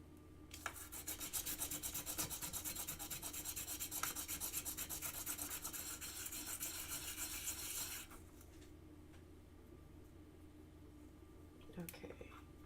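Close, steady scrubbing of 500 grit sandpaper rubbing epoxy off the back of a piece for about eight seconds, then it stops, leaving faint handling sounds.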